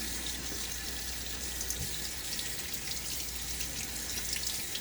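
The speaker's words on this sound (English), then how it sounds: "I'm just gonna let that dry, airy stuff fall down into the drain" Steady running tap water hisses into a bathroom sink as shaving lather is rinsed down the drain, close and continuous without pause.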